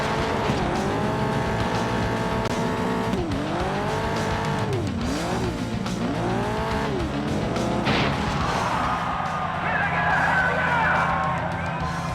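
Race car engines in a racing video game whine and rise in pitch, with repeated gear-shift dips, then tires squeal near the end, loud and steady throughout.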